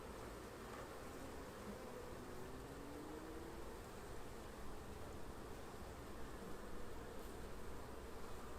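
Honey bees buzzing at a hive where frames are still being drawn, a steady quiet drone of many insects with a soft rustling wash and no talk.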